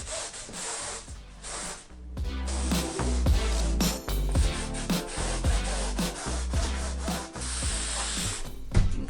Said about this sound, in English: it's nice just to remove that green dust that I've sanded and has ended up in the white part of the surfboard